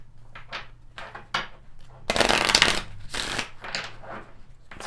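Tarot cards being shuffled give bursts of papery riffling and flicking up close, with one longer, louder riffle partway through.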